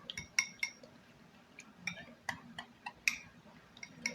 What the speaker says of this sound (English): we're going to give this a quick whisk just to mix all the ingredients